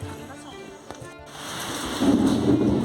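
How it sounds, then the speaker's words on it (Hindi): Thunder rumbles outside during rain, low and diffuse under a steady hiss of rainfall that swells louder in the last second. "सिर्फ बिजली कड़क रही है बाहर"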